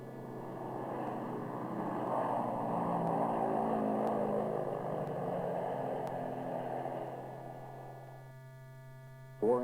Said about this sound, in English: Four-engine propeller aircraft, takeoff from 500 feet.